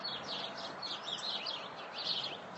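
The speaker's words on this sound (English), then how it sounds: "We got a flock of sparrows in the side bush over here." A flock of sparrows chirps busily in a side bush beside a back porch, many small high calls overlapping steadily throughout at moderate distance with no talking.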